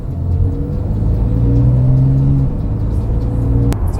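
Porsche 911 Carrera S (991) running a COBB tune pulls hard through quick gear changes, the loud engine note climbing and dropping with each shift before ending in a sharp click.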